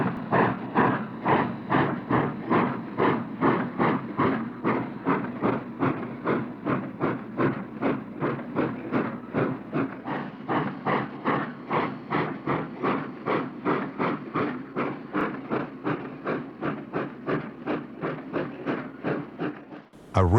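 A steam locomotive, number 5905, chuffing steadily in a regular rhythm as it moves with its train through carriage sidings, loud and close, with hissing and mechanical clatter throughout.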